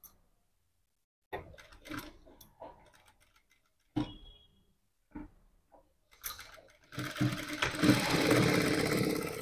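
A sewing machine stitching fabric for designer blouse hands runs in short intermittent bursts of mechanical ticking and whirring, close by, ending in a longer continuous run with brief quiet gaps between bursts.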